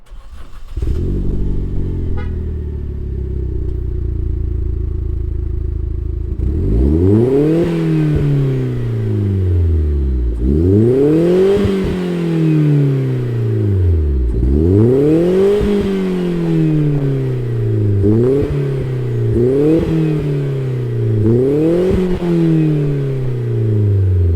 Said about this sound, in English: Let's fire it up and hear what this Sonic RS sounds like.